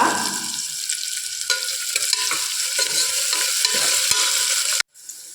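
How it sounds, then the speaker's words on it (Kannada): Chopped onions with mustard seeds and curry leaves fry in a hot pan for a ridge gourd gojju, a steady close sizzle with scraping stirs that ends in a sudden cut near the finish; no one speaks. "ಸಾಸಿವೆ ಸ್ವಲ್ಪ ಸಿಡಿದ ಮೇಲೆ 2 ಈರುಳ್ಳಿ ಕಟ್ ಮಾಡಿ ಹಾಕ್ಕೊಳ್ತಾ ಇದ್ದೀನಿ ಚಿಕ್ಕದಾಗಿ."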